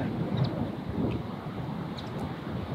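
Strong wind on an Open Championship links golf course, a continuous low rumbling buffet across the microphone, steady and fairly loud with faint distant sounds above it.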